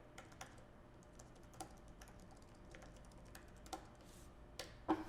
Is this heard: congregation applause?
no